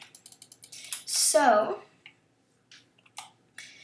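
A few sparse clicks come from a new computer keyboard, close and fairly faint, following a brief burst of speech.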